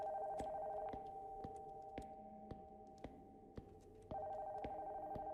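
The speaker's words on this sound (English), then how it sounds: "the phone that had the wire cut is suddenly ringing" A telephone rings in a horror video game, a faint, sustained electronic ring tone with regular ticking clicks running beneath it, alone and quiet.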